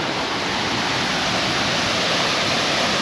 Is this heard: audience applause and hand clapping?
no